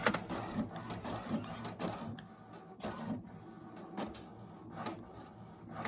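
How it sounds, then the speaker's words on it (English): An HP inkjet printer prints a test page on its own after new ink is fitted, a close, quiet series of mechanical whirs, clicks and shuffling paper-feed sounds. "It is automatically printing a test image."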